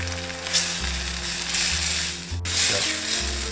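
Spices and curry powder fry in a pan for chana masala, making a continuous loud sizzle with a low steady hum beneath and a brief swell of hiss near the end.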